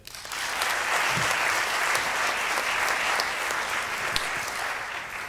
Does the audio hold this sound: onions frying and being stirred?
no